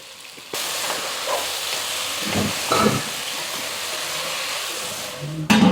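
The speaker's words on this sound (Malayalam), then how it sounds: "അപ്പൊ നമ്മളെ വെള്ളം ഇതാ നല്ലപോലെ തിളച്ചിട്ടുണ്ട്." A pot of water at a rolling boil for Kerala-style dum biryani gives off a steady broadband hiss and sizzle that runs at an even level, with a sharper burst of clatter at the very end.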